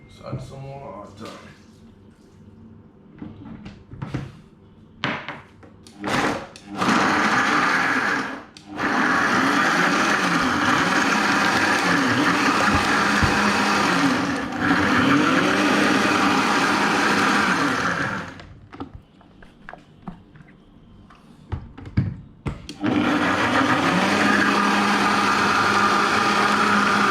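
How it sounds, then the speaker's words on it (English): A blender whirs loudly, blending Jamaican jerk chicken marinade with water in a backyard kitchen, running in long sustained bursts with pauses, while people talk between them. "we'll blend it to get it liquid"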